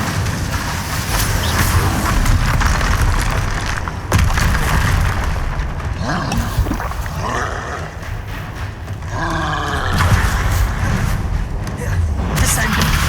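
Spell effects cast in Hogwarts Legacy, heard as a dense run of magical whooshes, booming impacts and roaring bursts that layer over one another almost without pause, loud and close throughout.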